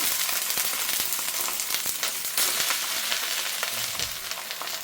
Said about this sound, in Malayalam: നമ്മുടെ ദോശക്കല്ല് നമ്മുടെ ചെനിക്കട്ടി ചൂടായതിലേക്ക് ഞാനിവിടെ ഇട്ട് കൊടുക്കുകയാണ്